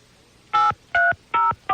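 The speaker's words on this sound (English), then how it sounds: "Let me dial her up." Four evenly spaced telephone keypad dialing tones, each a short dual-pitch beep with brief gaps between, loud and clear with no talk.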